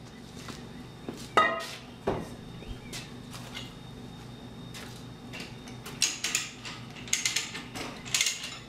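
A workshop vise being loosened: a run of quiet metallic clicks, ratcheting ticks and small clunks, close by and irregular, growing busier toward the end.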